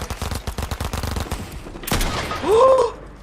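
A burst of rapid video-game gunfire crackles in quick succession, followed by a sharp crack and a rising whooshing tone.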